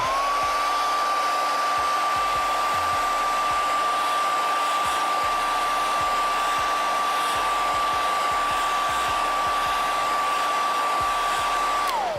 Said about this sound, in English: Let's hit it with a hair dryer just to make sure.